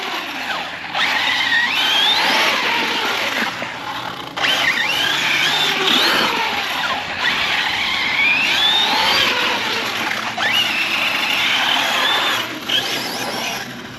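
Arrma Big Rock 6S RTR RC truck on its stock factory tires, running on two 3S packs, with a loud continuous high electric motor whine that rises and falls in repeated acceleration sweeps, close by and without talk.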